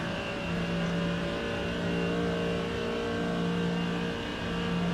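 Race car engine in a racing video game, steady and sustained, with a held drone and a faint second engine behind it, fairly loud and constant throughout, no voices.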